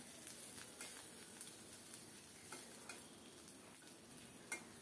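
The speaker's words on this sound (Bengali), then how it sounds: "অল্প তাপে নেড়ে চেড়ে শুটকিগুলো সুন্দরভাবে ভাজা করে নেব।" Faint, steady sizzle of dried fish and garlic frying over low heat in a pan, with light scraping and stirring clicks throughout, no voices.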